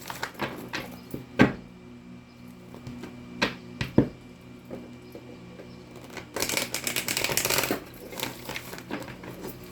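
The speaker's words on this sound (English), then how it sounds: "Let me get you some good shuffles in" Tarot cards are shuffled by hand: a few sharp slaps and taps, then a dense, rapid riffling burst, close up with no talking.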